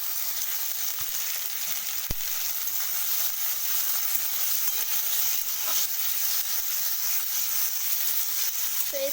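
Potato pieces go into a pan of frying chopped onions and sizzle with a strong, continuous hiss, marked by a few sharp clicks and knocks of utensils close by, with no voices.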